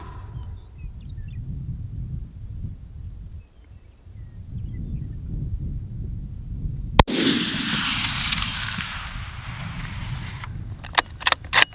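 A single loud, sharp rifle shot cracks across open country during a New Mexico pronghorn hunt, followed by a rolling echo, after several seconds of steady wind rumble.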